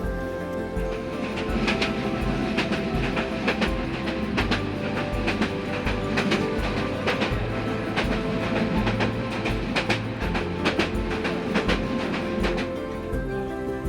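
A Haor Express passenger train pulls out of Mymensingh station on a rainy night, a steady rumbling roll with repeated clickety-clack wheel beats on the rails, loud and continuous throughout.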